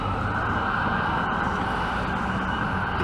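An ambulance siren passing on a downtown Toronto street, loud and steady, with a continuous high wail filling the clip over city traffic noise.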